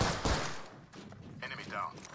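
Apex Legends gunfire cracks in a brief flurry of shots, heavily compressed and mixed under a voice talking and game sounds.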